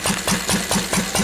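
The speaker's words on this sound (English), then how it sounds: "We're still on full rich, but it's running properly at the moment" A Lister D donkey engine running on full rich chugs with a steady, regular thumping beat about five times a second, close and clear, with no voices.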